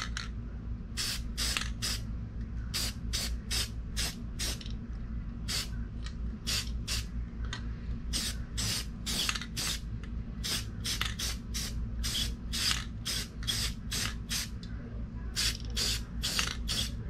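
Rust-Oleum metallic aluminum spray paint is applied to the parts and axle of a Monogram '55 Chevy Bel Air model kit. The can sprays in many short, close hissing bursts with brief gaps, over a low steady background hum.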